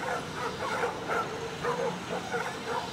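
A pack of stray dogs barks and yelps continuously while harassing a police dog, the overlapping barks steady and moderately loud with no clear pauses.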